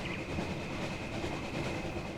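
A train rolls past in the Call of Duty game during an insurgency mission, a steady rumble of wheels and rattling cars with a faint high whine, loud and unbroken throughout with no talk.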